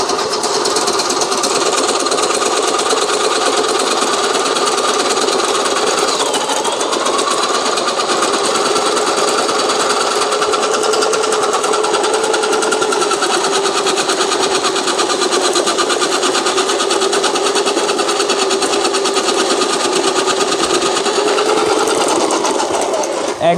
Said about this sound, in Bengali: আমরা একটা গাজর কাটবো এখন। এটা চালু করে দিবেন, শেষ।